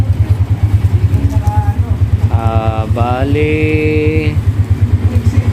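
A Yamaha Sniper 150 motorcycle engine idles steadily nearby after repair work on its crankshaft bearing, connecting rod and timing chain, its even low throb running throughout while someone talks over it.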